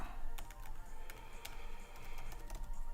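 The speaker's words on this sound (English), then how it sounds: "So my typing is going to pot." Rapid clattering keystrokes on a computer keyboard during an evening coding stream, irregular clicks at close range with faint background hiss and no talking.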